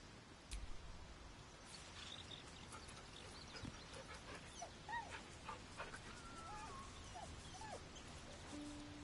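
A dog in the video game Baldur's Gate 3 whimpers and yips softly in several short, high, whining calls scattered over a quiet, low-level background.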